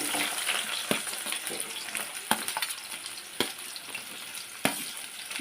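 Onions frying in a pan give off a dense, continuous sizzle, broken by several sharp clicks and taps of stirring at irregular intervals.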